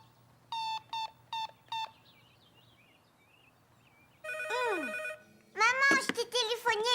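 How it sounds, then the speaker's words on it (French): A telephone rings in four quick electronic bursts, then falls quiet before warbling tones and a bright chiming jingle follow, close and clear. "Maman, je t'ai téléphoné et le téléphone a sonné."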